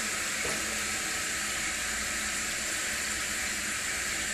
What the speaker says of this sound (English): I know, you just wanted to sit and spend your day watching a toilet fill up with water, right?